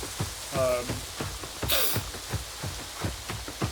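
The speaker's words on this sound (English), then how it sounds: "you feel like you're in a storm" Heavy rain from a wild rainstorm in the video game New World Aeternum, a steady wash of rainfall with scattered patters and splashes, loud and close throughout with no talking.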